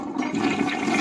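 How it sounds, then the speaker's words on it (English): A porcelain toilet flushes close by, water rushing and swirling loudly through the whole short burst with no talking. "I'm going to flush it."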